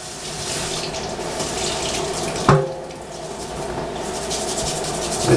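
Kitchen tap water runs steadily into a sink as two organic carrots are washed, a continuous broadband rush with a brief louder splash midway.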